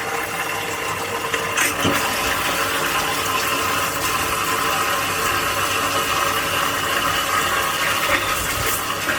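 Water running steadily for a bath as hot and cold water are mixed, a continuous close rushing flow with a couple of faint knocks, no talk.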